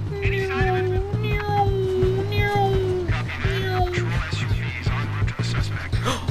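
A voice imitates a cat, giving a string of drawn-out meows in steady succession over a loud, constant moped engine drone, with some talk mixed in.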